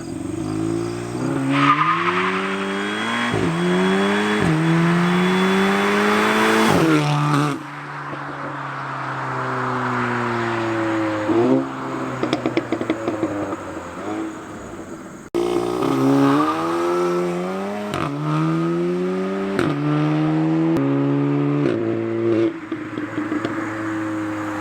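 A tuned 400 HP Audi S3 drives by with loud, rising engine revs through several gear changes, rattling pops and crackles between shifts, and a second pass later, close and aggressive.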